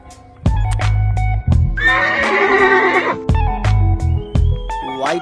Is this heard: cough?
no